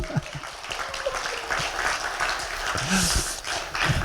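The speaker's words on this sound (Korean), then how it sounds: "우리나라 최고의 수필 작가 우리 조두희 사모님 큰 박수 한번 보내주시면 고맙겠습니다." Applause from a book-talk audience for an essayist, a steady wash of clapping with some murmured voices underneath and a few louder claps near the end.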